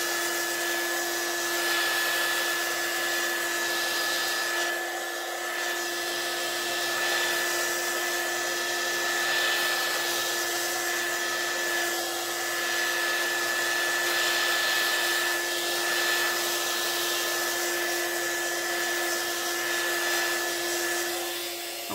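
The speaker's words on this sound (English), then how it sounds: "I'm using my embossing gun, not a blow dryer, to" An embossing heat gun blows steadily and close up to push and dry alcohol ink poured onto a surface for doodling art, giving a continuous even whir with a constant tone and no talk.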